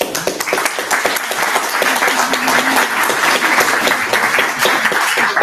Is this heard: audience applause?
yes